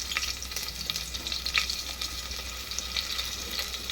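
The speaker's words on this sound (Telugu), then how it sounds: "ఆయిల్ ఎక్కింది, ఉల్లిగడ్డ అయితే వేస్తున్నాను" Onions frying in hot oil with bay leaf, cinnamon and cloves for tomato rice, a dense continuous crackling sizzle heard close up and fairly loud, with occasional brighter pops and no talking.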